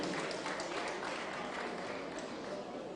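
Audience applause at an awards ceremony: a dense, even wash of many hands clapping, steady and fairly loud throughout, with no break in it.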